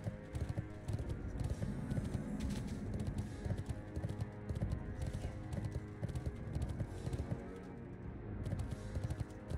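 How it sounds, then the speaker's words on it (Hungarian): Horse hoofbeats on cold, frosty ground in the World of Warcraft video game, a steady run of near, moderately loud clip-clop steps with no talk over them. "Hűvön más a hangja a lovak léptének."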